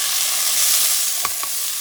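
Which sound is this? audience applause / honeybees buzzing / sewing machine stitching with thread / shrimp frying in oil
shrimp frying in oil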